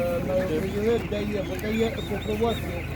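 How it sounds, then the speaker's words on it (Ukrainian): Domestic chickens clucking and cheeping close by at an animal market, overlapping calls in a busy flock, with people talking faintly in the background. "Курчата домашні."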